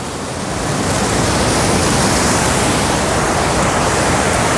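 Saidhara waterfall at Jharigaon in Odisha, a steady dense rush of falling water, loud and continuous, with no voices.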